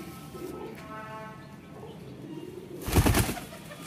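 Pigeon pairs in a loft, soft cooing and bird sounds in the background, then a brief loud burst of flapping wings near the end.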